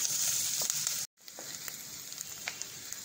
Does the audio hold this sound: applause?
no